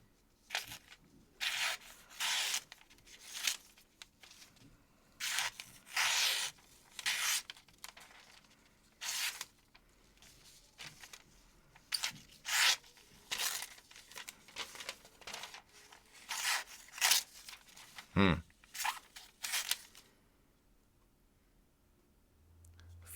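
A Kansept Cosmos EDC folding knife cuts through double-wall cardboard in a series of repeated scraping, tearing slices, each stroke a short rasping burst with brief pauses between, close and fairly quiet.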